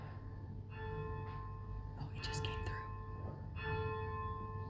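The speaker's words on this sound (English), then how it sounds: "because the bell rings twice, what ringers normally do is they pull it all the way down" A church bell in the tower of St Patrick's, Dublin, rings with sustained metallic tones that swell and fade, faint under soft murmured talk and steady background noise.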